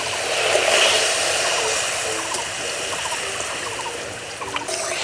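Water poured into a cooking pot for boiling radish, a steady continuous trickling stream at close range, fairly loud and unbroken for several seconds.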